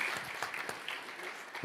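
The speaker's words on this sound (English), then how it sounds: "give a round of applause to all the presentation of today" A conference audience gives a short, faint round of applause after the day's presentations, a soft, brief patter of clapping in a hall.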